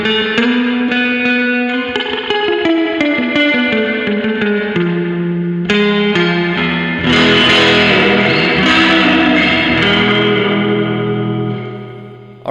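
Spring reverb on a clean electric guitar, with sustained chords and plucked notes that splash and ring out in a wet, drippy wash, loud and alone, fading at the end.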